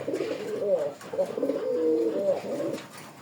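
A Rajgolla pigeon coos in a few low, rolling phrases, close and steady, with faint background noise between the calls.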